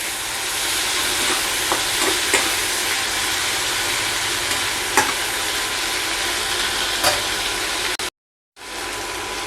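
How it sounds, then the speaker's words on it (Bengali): Onions frying in a little oil in a kadai give a steady, loud sizzle, broken by a few scrapes as they are stirred, then a brief silence before the hiss returns. "পেঁয়াজটাকে হালকা তেলের ওপরে নেড়ে চেড়ে নেব।"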